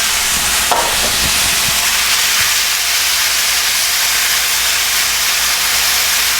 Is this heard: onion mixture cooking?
yes